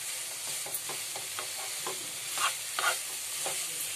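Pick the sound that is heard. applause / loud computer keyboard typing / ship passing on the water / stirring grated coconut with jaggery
stirring grated coconut with jaggery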